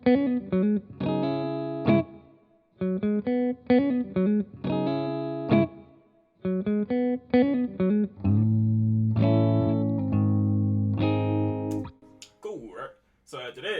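Echo effect applied to an instrumental track in a home-studio music production, heard as repeated bursts of effected, distorted notes with reverberant tails, then a sustained layer before a brief cutoff near the end.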